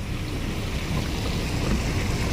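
A continuous broadband rush of a flooded river's fast-moving water, steady and loud, with no pauses and no voices.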